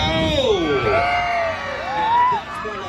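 Crowd at a county fair motorcycle stunt show cheering and whooping loudly, a dense wash of yells and rising shouts filling the whole clip.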